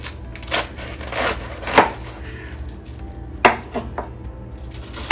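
A knife chops chicken salad ingredients on a cutting board in irregular bursts of crisp, close knocks and scrapes, a handful of cuts separated by short pauses, with no talk.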